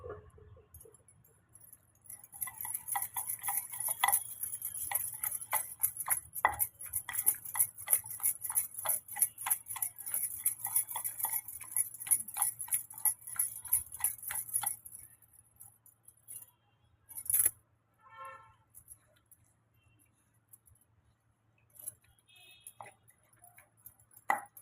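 Cucumber chutney is pounded coarsely with a stone mortar and pestle in a steady run of rapid, close, hard knocks and clinks for about fifteen seconds, then a few scattered taps and scrapes follow.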